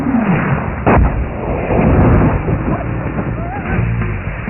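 Booming cannon blasts and explosions from the Battle Tank video game for Nintendo 64 fill a loud, dense mix, with one sharp blast standing out early and rumbling combat noise running underneath, partly under an announcer's voice.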